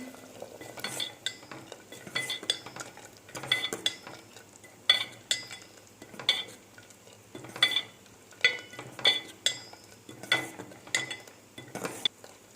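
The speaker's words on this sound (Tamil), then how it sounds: "இப்போது இதை நல்லா மிக்ஸ் பண்ணிக்கலாம்" A thick peanut mixture stirred in a pot, with repeated scraping strokes of a spoon in an irregular rhythm, close and moderately soft, with faint clinks against the pot.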